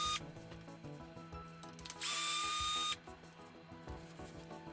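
A power driver backs screws out of the suspension arms of a Fireteam 6S RC car, one loud whirring burst of just under a second in the middle, with quieter handling noises around it.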